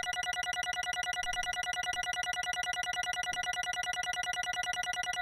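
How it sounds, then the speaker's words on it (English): A telephone rings repeatedly in the Danganronpa 2: Goodbye Despair video game, a steady electronic trill pulsing in regular bursts without pause, clear and prominent with no talking. "It sounded like a phone ringing."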